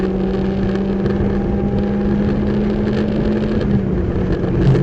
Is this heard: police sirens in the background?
no